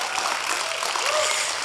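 A church congregation claps together, a dense steady patter of many hands filling the room, loud and continuous throughout.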